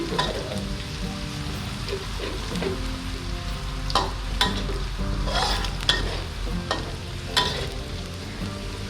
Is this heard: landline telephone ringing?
no